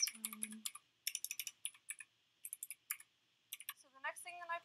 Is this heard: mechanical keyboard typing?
yes